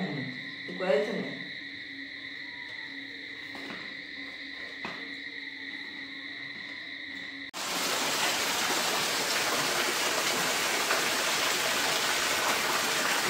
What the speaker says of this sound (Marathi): पाऊस सुरू झालाय आमच्याकडे.